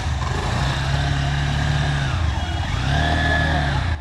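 A Honda Hornet 2 motorcycle engine idles and revs steadily at the start of a test ride, a continuous close mechanical drone with a brief dip midway before picking up again.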